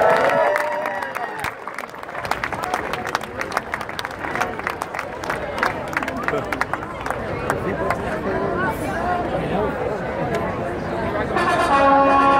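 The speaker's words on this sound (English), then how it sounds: "Give them a round of applause." Outdoor crowd applause for the scavenger hunt winners at a summer festival in Flushing Meadows Park, steady and dense clapping with cheering voices, continuing loudly throughout.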